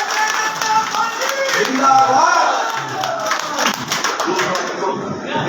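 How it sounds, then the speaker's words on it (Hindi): Applause from a crowd at a Rajput community political gathering in Sujangarh as a guest is welcomed with a bouquet. The clapping is steady and dense, with some cheering mixed in. "गुलदस्ता भेंट करके तालियों के साथ स्वागत कीजिए।"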